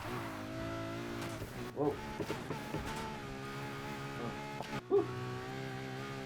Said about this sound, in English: I love the sound this thing makes, though. When it changes the gears, that little pop.